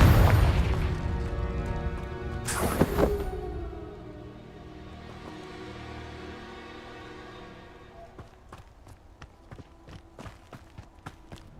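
In Hogwarts Legacy, the Confringo spell bursts with a booming crack that rumbles and fades over several seconds, followed by light footsteps ticking along alone.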